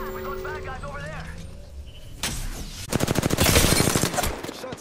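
Rapid bursts of automatic gunfire in the Apex Legends video game, loud and close, starting partway through and building into a dense rattling volley, with voice chatter heard earlier.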